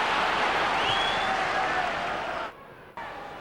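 Crowd noise from a football match in the LMA Manager video game, a steady broad roar of a stadium audience that runs loud and continuous, briefly dips for a moment near the end, then resumes at lower level.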